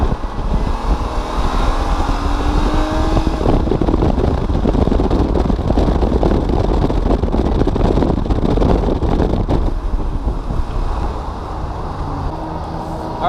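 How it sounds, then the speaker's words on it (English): Steady loud roar of wind buffeting a GoPro held by a suction cup mount on a car driving on the road toward highway speeds, with engine and tire rumble underneath throughout. "now we're gonna go take a ride on the road and then go on the highway"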